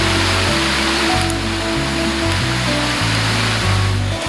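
The Ruecas river rushes past in a loud, continuous wash of flowing water heard close by, a steady broadband roar with no voices over it.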